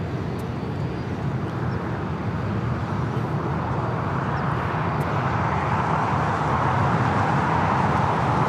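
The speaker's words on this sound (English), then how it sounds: "Delta A321 coming in from Detroit, landing here on the south side" A Delta Airbus A321 arriving from Detroit lands on LAX's south side, its broad jet roar building steadily and growing louder toward the end.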